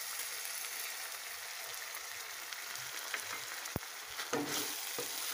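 Pointed gourd malai curry stirred in a pan as milk is mixed in, giving a steady soft sizzle with a few scraping spoon strokes near the end, close and alone.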